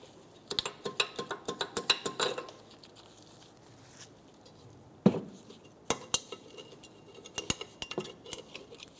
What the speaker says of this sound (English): Go ahead and take your pads out of your caliper.